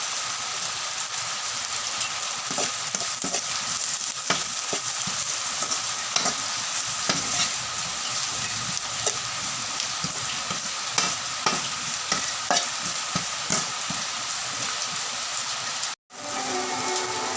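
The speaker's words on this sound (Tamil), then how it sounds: "இதில் போட்டு தட்டி கிண்டவும்." Spices sizzle and crackle steadily in a hot frying pan while a spoon scrapes and stirs them in irregular strokes, in Tamil-style cooking.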